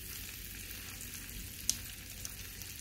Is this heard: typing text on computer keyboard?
no